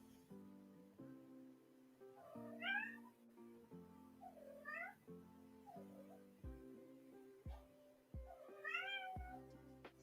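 A house cat meows several times, drawn-out plaintive calls spaced a couple of seconds apart, close by but fairly quiet over a faint steady electronic hum and soft background clicks.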